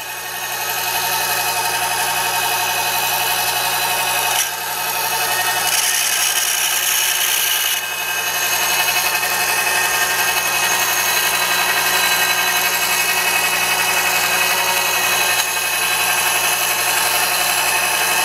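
The gyroscope of a WWII drift meter spins at full speed, about 10,600 RPM, giving a loud, steady high whine and hum that runs unbroken throughout, with no talking.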